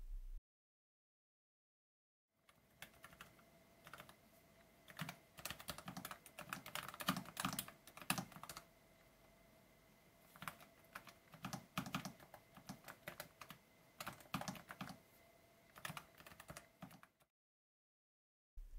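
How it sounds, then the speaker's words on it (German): Rapid typing on a Logitech G515 Lightspeed TKL wireless gaming keyboard, crisp key clicks in quick bursts with short pauses between runs, fairly quiet and close, no voices. "Hier mal ein kleiner Soundcheck, wie die Tasten der G515 Lightspeed TKL so klingen."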